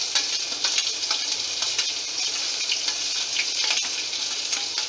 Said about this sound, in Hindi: इस मसाले में अदरक डाल देते हैं और हरी मिर्च डाल देते हैं।